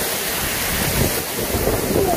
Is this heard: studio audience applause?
no